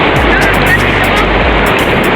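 Large ocean waves at a beach, a loud continuous rushing roar with wind buffeting, heard up close and unbroken through the moment.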